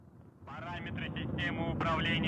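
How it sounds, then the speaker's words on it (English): A Soyuz booster lifts off carrying the Progress 93 cargo ship to the International Space Station, a steady broadband roar rumbling continuously beneath a commentator's voice, which carries over it for most of the moment. "we have liftoff of the 93 Progress resupply ship to the International Space Station"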